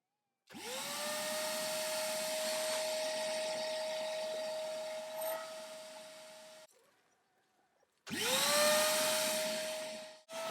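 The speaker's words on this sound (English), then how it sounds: "I don't know how well you're going to be able to see this or even hear me because of the hoover" A hoover on an off-grid homestead whirs loudly and steadily for several seconds, winds down and cuts out, then starts up again with a rising whine.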